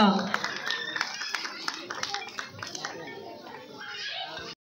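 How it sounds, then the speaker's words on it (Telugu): Parents and children clap loudly at a preschool event, a dense patter of hand claps at close range with talk mixed in, fading out abruptly at the end. "ఒకసారి శ్రావణి గారికి గట్టిగా క్లాప్స్ కొట్టాలి ప్లీజ్"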